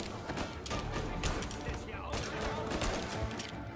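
Gunshots in the video game Mafia Definitive Edition: repeated sharp cracks in an irregular volley, fairly quiet in the mix, with voices mixed in beneath.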